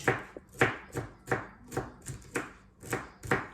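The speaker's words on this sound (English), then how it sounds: "I obtained small pieces because I cut it long way first and then" A knife chops celery on a board in a quick, even rhythm of about a dozen sharp close-up strikes, with nothing else heard.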